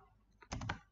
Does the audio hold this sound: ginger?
no